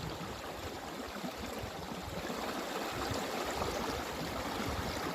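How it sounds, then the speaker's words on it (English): Steady flowing water of a stream outdoors in the wild, a continuous broadband rush and babble, moderately close and even in level, with no voices over it. "it wasn't long ago that the sound of water like this would have made me nervous"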